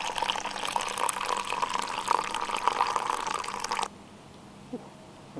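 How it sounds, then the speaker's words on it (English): Hot coffee poured into a cup outdoors in the woods, a steady close trickle of liquid lasting a few seconds before stopping abruptly, followed by quiet with a faint clink. "pour yourself a nice cup of coffee"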